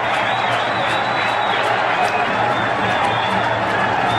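A cricket crowd at an England versus India match applauds and cheers India's 8-wicket win, a dense, steady wash of clapping and crowd noise throughout with a commentator's voice running over it.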